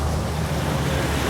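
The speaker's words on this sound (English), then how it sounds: "And the wind's picked up a little bit." Wind buffets the microphone aboard a boat on Lake Erie, a loud steady roar with light waves lapping beneath it and no talk.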